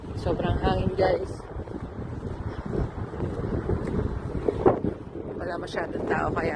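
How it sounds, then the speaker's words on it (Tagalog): Strong wind buffeting the microphone outdoors on a walk to school in Perho, Finland, a loud continuous roar with gusty surges throughout. "Wow, sobrang hangin."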